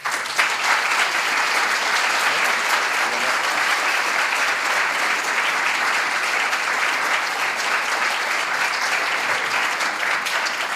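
A large indoor audience applauds steadily to welcome four guests at a Plains Indian art talk in Kansas City, a dense, even roar of clapping that lasts throughout without fading.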